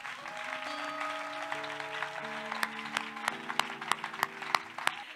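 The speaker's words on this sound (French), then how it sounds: "Acclamons le Seigneur." A church congregation applauds during a Sunday service, a steady patter of many hands clapping under sustained organ or keyboard chords, with sharper individual claps near the end.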